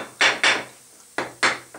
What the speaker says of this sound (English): then use a hammer to gently tap the housing